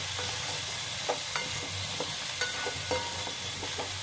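Greens being sautéed in a pan with salt, turmeric and cumin powder, a steady close sizzle with intermittent scraping stirs of the spatula throughout.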